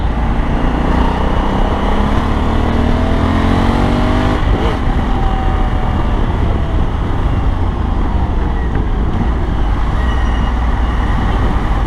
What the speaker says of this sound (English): Hopefully you can hear the exhaust.